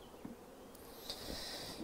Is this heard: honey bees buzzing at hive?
yes